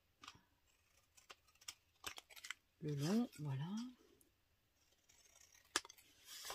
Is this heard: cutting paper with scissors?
yes